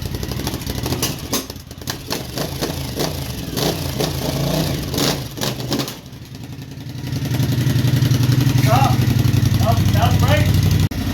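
An SU3 reverse trike's engine revs and drones as the machine pulls forward, rising to a steady, louder hum near the end, with people talking over it at first.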